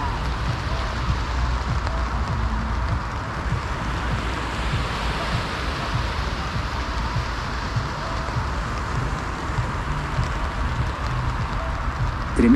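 Steady rain falls through a surfcasting session on a beach during a Saharan dust storm, a continuous broadband hiss of drops mixed with the surf, even and unbroken from start to finish.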